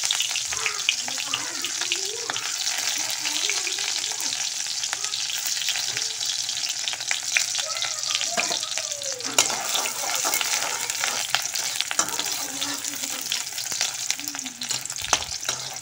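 Onions hitting hot oil in a kadai, a loud continuous close crackling sizzle that fills the whole stretch, with faint stirring now and then.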